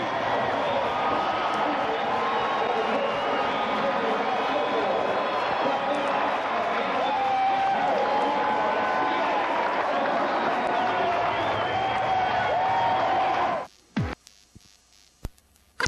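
A crowd at a 1994 professional lacrosse game roars continuously for over ten seconds beneath an announcer's voice, then the sound cuts off abruptly.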